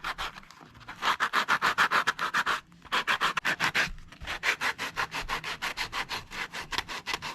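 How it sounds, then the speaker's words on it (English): Rapid rhythmic rasping of sandpaper rubbed back and forth over a Crocs shoe, close and steady, with two brief pauses. "So I'm just going back and forth all the way around, sanding everything down."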